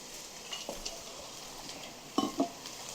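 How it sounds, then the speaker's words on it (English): Food sautés in a pan with a soft, steady sizzling hiss, broken by a few light clinks of stirring against the pan, at a fairly quiet level. "so let that saute for a second"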